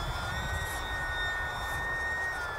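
A small E-flite UMX Pitts S-1S electric model biplane flying outdoors on its maiden flights, a thin steady high-pitched motor whine over constant wind rumble, distant and even throughout.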